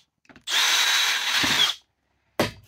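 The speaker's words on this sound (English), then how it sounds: "And then I'm just gonna drill holes in those" A power drill bores holes in a mounting bracket plate for a Garmin Striker 4 ice fishing setup, with one loud, close, whining burst of about a second and a half, a pause, then a brief restart.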